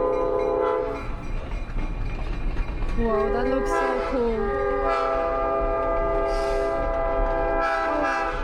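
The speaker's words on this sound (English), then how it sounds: "There's a train coming, right?" A passenger train rumbles past with clanking wheels, its horn sounding in a long chord that slides in pitch, then blasts again later. Loud and close, with a person briefly exclaiming over it.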